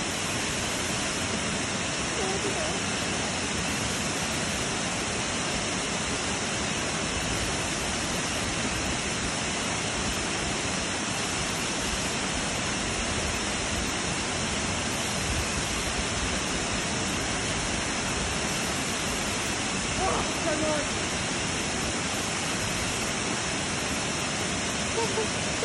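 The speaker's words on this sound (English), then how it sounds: "Waterfall." A waterfall at Zoe Bay roars as a steady, broad rush of falling water, constant and enveloping throughout, with faint voices under it.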